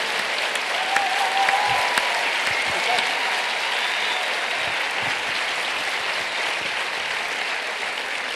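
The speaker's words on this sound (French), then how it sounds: "On peut l'applaudir très fort." An audience applauds a newly presented patron at a CNAEMO ceremony in France, sustaining a loud, dense wash of clapping for several seconds with a few individual claps standing out and faint voices underneath.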